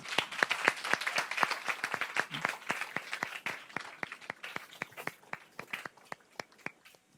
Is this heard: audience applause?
yes